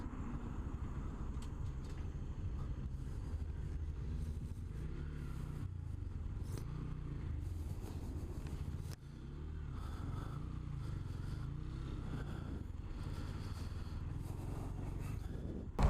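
A 2017 Honda Grom MSX 125 motorcycle is ridden steadily, its small engine a continuous low drone with slight rises and falls, mixed with road and wind noise and no talk.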